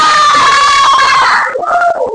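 A seventh-grade class of students shouts an answer in unison, a loud sustained crowd yell that breaks off into scattered voices and laughter after about a second and a half.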